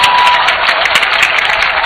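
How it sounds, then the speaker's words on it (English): Dense, steady applause from a large crowd at a military parade in Ghana, continuous clapping filling the whole stretch at a loud level. "Shall we please give them a round of applause?"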